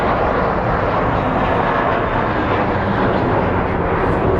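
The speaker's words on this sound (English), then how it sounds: "So we have a Southwest 737 that's going to be headed to Burbank" Loud, continuous roar of a Southwest Boeing 737's engines at Phoenix Sky Harbor airport, a broad steady rumble that fills the whole stretch without letting up.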